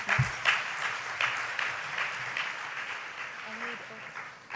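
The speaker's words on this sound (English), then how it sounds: "Can we give my student a round of applause?" An audience applauds a student at a talk for international students, a moderate wash of clapping that starts strong, thins and fades under a murmur of voices before a sharp sound at the end.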